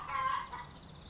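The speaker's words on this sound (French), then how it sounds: "La poule s'exprime." A hen clucks briefly in the background, a short faint squawk against a soft, hissy room tone.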